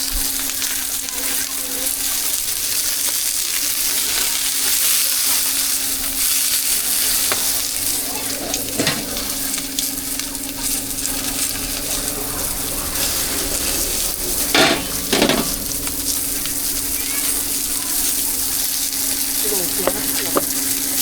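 Street-food cakes with meat sizzle and fry in a pan at a Chinese stall, a steady loud hiss lasting throughout with a constant hum and a few brief clanks of utensils.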